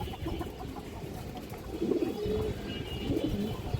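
Soft, low cooing from pigeons close by, coming in repeated throaty rolls over a quiet background.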